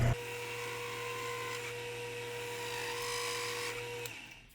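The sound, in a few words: lathe skim cut on the outside diameter, hand fed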